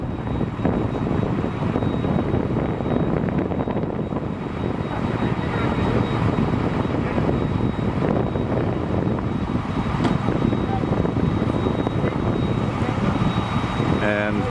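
The piston engines of a Delta Air Lines Douglas DC-7B propeller airliner drone loudly and steadily nearby, a dense continuous roar with a voice talking faintly underneath.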